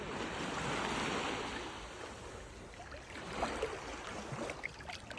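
Atlantic ocean surf at Crystal Crescent Beach in Canada on a calm, cold June day, a soft continuous wash of small waves with gentle swells rising and fading, fairly faint and without talk.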